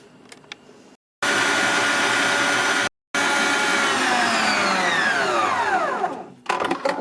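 An electric hand mixer whirs loudly and steadily as it beats yogurt and sugar for a cream, with two brief stops and a falling pitch sweep near the end before the motor cuts out.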